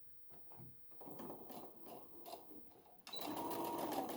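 A sewing machine back stitches a 5/8 inch seam on a little dress, starting with a few short bursts and then settling into a louder, steady run of rapid stitching near the end.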